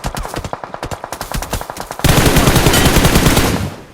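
Gunfire in the PUBG Mobile battle game: loud, close automatic bursts with rapid evenly spaced shots for two seconds, then a dense continuous volley that fades at the end.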